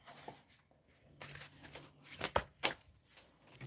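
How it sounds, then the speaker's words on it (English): Soft riffling and sliding of cards being shuffled, a few quiet passes building to two sharper bursts of flicking, close and fairly faint. "This yellow thing is to help me shuffle"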